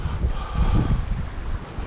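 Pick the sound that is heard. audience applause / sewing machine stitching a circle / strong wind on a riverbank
strong wind on a riverbank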